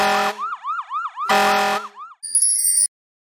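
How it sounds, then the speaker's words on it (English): A fire engine siren: loud blaring horn blasts alternating with a rapid wailing yelp, close and clean, ending in a brief bright chime. "Fire engine."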